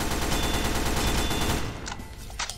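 Rapid submachine-gun fire in Roblox, loud sustained bursts at close range filling the first two seconds, then a brief quieter gap with a couple of trailing shots.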